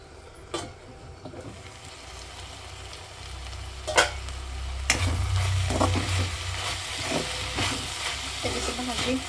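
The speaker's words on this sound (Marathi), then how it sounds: "आणि 1-5 मिनिटासाठी बारीक गॅसवरती ठेवून द्यायचं आपण भाजी अशीच." Papdi vegetable cooking on a low gas flame, with a steady soft sizzle under repeated scraping and stirring strokes of a spoon in the pan, close and moderately loud.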